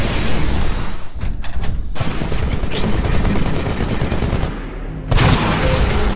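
Rapid gunfire roars from a Titan's Vortex Shield hurling absorbed bullets back in a video game, a loud continuous burst with brief gaps and a final renewed volley.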